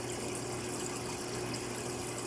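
Water from a hose gushes steadily into a piranha tank during a water change, a continuous broadband rush with no pauses and no talking.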